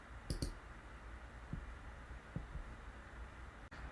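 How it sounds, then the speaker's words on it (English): A few sharp mouse clicks on an on-screen button, clustered near the start with two more isolated clicks later, close and fairly quiet over steady room hum, with no talking. "By clicking the fork button"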